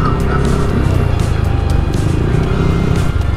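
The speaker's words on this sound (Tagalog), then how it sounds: "Traffic." Night road traffic of cars and motorcycles in Dagupan City, heard from a moving ride: a loud, constant roar of engines and tires stays close and steady throughout, with no talking.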